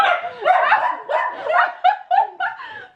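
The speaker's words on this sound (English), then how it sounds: "You don't need to bark all the time though, do you?" A new puppy barks in a quick run of high, yappy yips and short barks, close and fairly loud, with no one talking over it.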